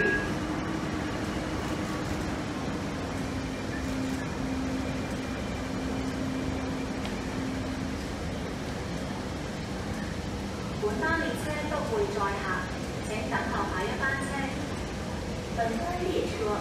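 An MTR Tuen Ma Line IKK inspection train, D359/D360, not in service, rolls through Diamond Hill station, Hong Kong, with a continuous rumbling roar and rising wheel clatter, while station announcements play over it.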